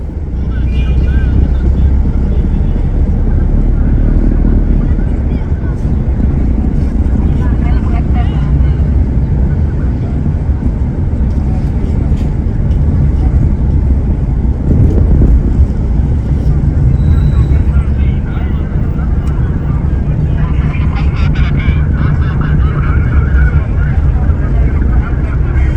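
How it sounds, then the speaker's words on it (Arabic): Busy open-air street market in Ataba Square, Cairo, with a steady dense roar of crowd noise, traffic rumble and mixed voices of vendors and shoppers throughout, loud and continuous without pauses. "واسمعها كده يعني صوت البياعين في جوه ميدان العتبة."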